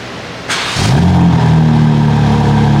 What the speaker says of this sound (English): just to give you an idea what this exhaust sounds like